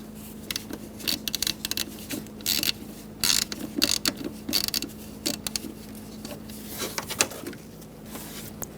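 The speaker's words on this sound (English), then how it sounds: "Using a T20 bit, we're going to remove the 2 bolts for the airflow sensor." A ratchet fitted with a T20 bit loosens the mass airflow sensor bolts on a 2000-2007 Ford Focus. Close, rapid clicking comes in uneven bursts with short pauses, and a steady low hum sits underneath.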